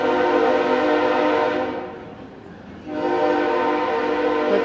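A Conrail freight train carrying big pipes blasts its horn loudly, one long tone, then a brief pause with low rumbling, then another sustained blast.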